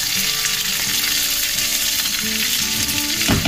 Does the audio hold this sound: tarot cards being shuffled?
no